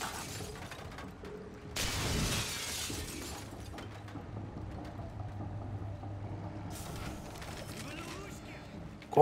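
Glass windows shatter twice in the video game Singularity, a loud crash followed seconds later by another, with a low droning tone and faint game ambience in between.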